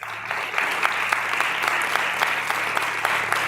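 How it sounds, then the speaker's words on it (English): Steady applause from a conference audience for three panelists, continuous dense clapping with a few sharper individual claps standing out, plus a low steady hum underneath. "please join me in applause for our three panelists"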